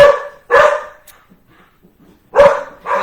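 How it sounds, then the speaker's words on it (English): A dog barks loudly nearby, a sharp bark, then a quiet gap, then another quick pair of barks, indoors. "Apologize for the dog."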